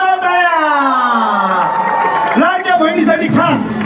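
A crowd at a girls' Dahi Handi festival in Thane, Mumbai cheers and whoops as the handi is broken, loud excited voices swelling with some clapping while an amplified voice talks over the noise.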